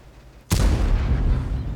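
A single loud, booming tank gun shot from a World of Tanks tank destroyer bursts out after a quiet moment, followed by a heavy rumbling decay.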